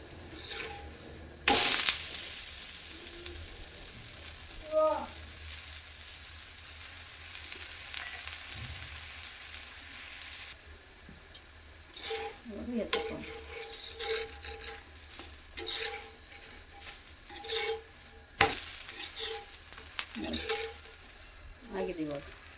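Methi thalipeeth flatbread cooks in oil in a pan with a soft sizzle, broken by scraping and clinking of a spatula against the pan and occasional bumps; quiet and close.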